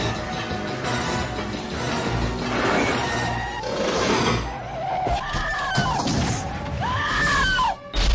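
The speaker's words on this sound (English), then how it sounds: "They just used the same scream twice." A film scream effect from The Terminator plays amid a chaotic action scene, with rising and falling screams and wails over a steady roar of crashes, engines and skids, loud throughout and briefly dipping near the end.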